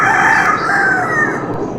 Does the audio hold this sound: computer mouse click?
no